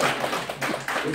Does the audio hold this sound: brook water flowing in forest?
no